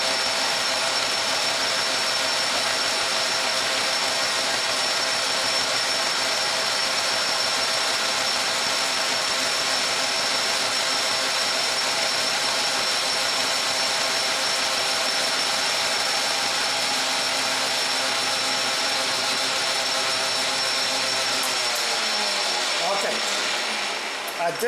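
A metal lathe runs steadily while machining a backhoe pin, a constant loud mechanical whine and hum with a bright high tone throughout, easing off near the end.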